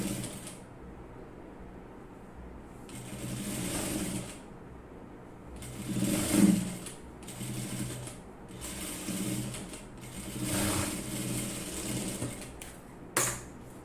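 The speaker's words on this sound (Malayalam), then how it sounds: "ഇനി നമുക്ക് കൈക്കുഴി ഒന്ന് സ്റ്റിച്ച് ചെയ്തെടുക്കാം" A sewing machine stitches the folded armhole of a cloth top in short bursts of rapid mechanical whirring, each run separated by brief pauses, close up with no talk.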